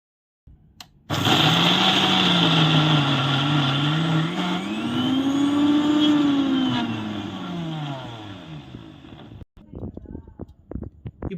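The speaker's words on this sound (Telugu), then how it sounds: "ఇప్పుడు మరోసారి మిక్సీ పట్టాం" A kitchen mixer grinder blends tomato masala paste with ginger garlic paste, its motor whining loud and steady with a wavering pitch for about eight seconds before stopping, followed by rattling knocks.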